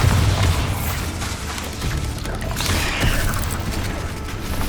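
Bombarda spell from Hogwarts Legacy going off in the game, a dense rumbling blast with crackling, debris-like bursts and mechanical clatter, loud and sustained throughout.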